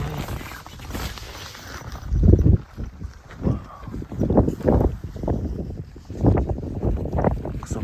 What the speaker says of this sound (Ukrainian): дворі дуже сильний вітер